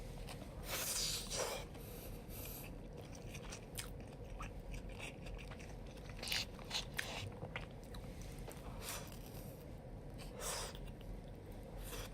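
Close, wet chewing and lip smacking while eating food, with irregular crunchy bites and snorting breaths repeating throughout a quiet indoor stream.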